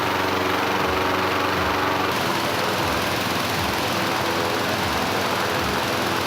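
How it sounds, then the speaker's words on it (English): Two 8-horsepower engine-driven fans roar steadily while blowing cold air into a hot air balloon at its inflation, a loud, constant, close motor drone with no voices. "We've got two 8-horsepower fans that will blow the cold air into it."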